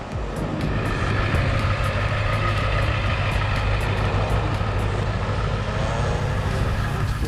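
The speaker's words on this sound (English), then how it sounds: "we drive the camper to the office" A camper vehicle driving along, a continuous loud low engine and road rumble with steady drone throughout and a faint ticking rhythm above it.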